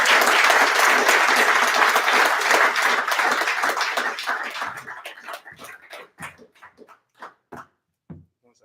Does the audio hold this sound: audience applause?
yes